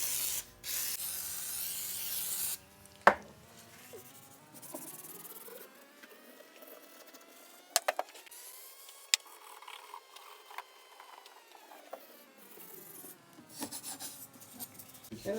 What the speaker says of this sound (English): I'll continue to use the WD-40 and this soft Scotch-Brite pad